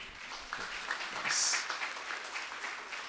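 A church congregation applauds visitors during a Sunday service, a soft, sustained ripple of many hands heard from a distance, with a brief brighter burst midway and no speech on top.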